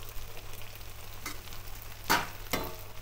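Bitter gourd and onions fry in a pan with a continuous close sizzle. Two louder bursts of crackle come near the end, as if from stirring or something added.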